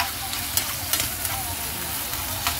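Spices sizzling and frying with chicken in a pan for a tacos filling, a steady crackling hiss with a few soft stirring scrapes, close and continuous.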